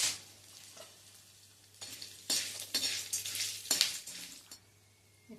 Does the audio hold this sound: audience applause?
no